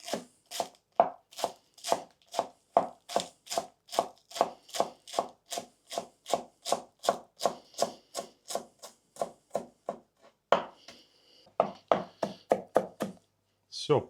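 Herbs such as coriander and dill are finely chopped with a knife on a board in a quick, even run of sharp close thuds, followed by a brief pause and a few more chops.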